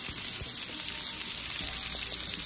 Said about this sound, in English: Onions going in now.